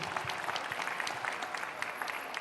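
An audience applauds three speakers at the close of a talk show session, a dense, steady patter of many hands that holds evenly throughout at moderate distance.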